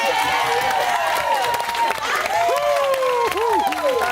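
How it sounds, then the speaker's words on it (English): A studio audience claps and cheers on a Celebrity Big Brother spin-off talk show, loud and continuous, with whoops and shouted voices rising over the clapping. "Give him a round of applause."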